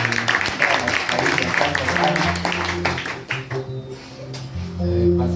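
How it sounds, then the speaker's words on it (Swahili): A church grand opening fills with applause for the pastor: dense, sustained clapping from a crowd, mixed with voices and tonal sounds, steady and loud throughout. "Tuwapatie makofi mazuri."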